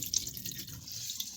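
Tap water running into a pot of rice while filling it for cooking, a steady close hiss of flowing water with bright splashing, continuous and fairly quiet throughout, no talking.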